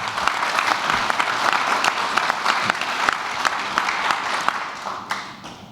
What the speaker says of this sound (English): So, huge round of applause to Brad.